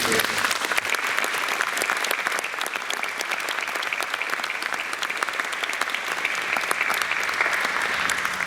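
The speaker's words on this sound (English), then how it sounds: "a round of applause for the panelists" An audience applauds the Band of Brothers panelists at a 20th-anniversary event, with steady, dense clapping throughout that carries on evenly without pause.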